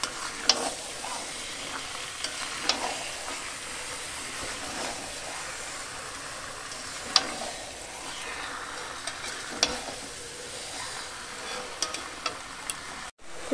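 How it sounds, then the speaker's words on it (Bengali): Chicken pieces and spices sauté in a pan for a recipe with chicken legs, giving a continuous moderate sizzle. Scrapes and clinks from stirring recur at uneven intervals, and no voices are heard. "একে একে সব দিয়ে ভালোভাবে কষিয়ে নেব।"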